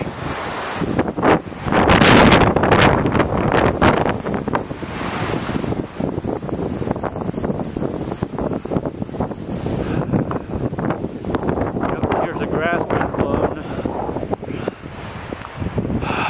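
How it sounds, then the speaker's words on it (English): Strong wind drives waves against a lake shore, a loud continuous wash of surf mixed with heavy gusts buffeting the microphone, with no one talking. "it's so windy that it's causing these waves to form on the lake"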